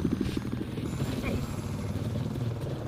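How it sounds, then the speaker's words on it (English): Transport helicopter in the video game Battlefield 4, a steady droning rotor and engine hum held throughout at moderate level, with low broadband rumble and a voice talking over it. "Someone's gonna take this transport chopper before I can get there, aren't they?"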